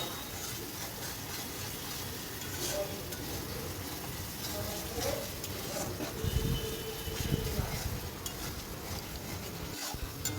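Boiled potatoes and green chillies fry in a pan in a village kitchen, giving a dense, continuous sizzle and hiss with soft stirring scrapes underneath.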